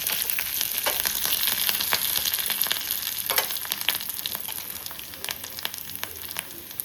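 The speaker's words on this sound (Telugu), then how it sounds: "ఇలా బాగా ఎర్రగా వేగాలి పోపు" Hot oil crackles and sizzles steadily with sharp pops as spices and curry leaves temper in a pan until reddened, close and with no talking.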